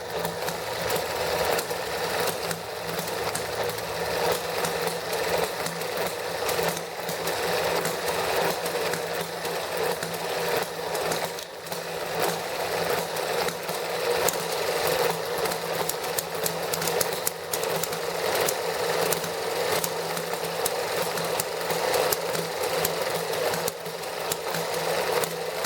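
The ET6 and ET7 engines run after a restart following lost spark and a low battery, giving a steady, fast mechanical clatter and hum that stays loud and even throughout, with no voices.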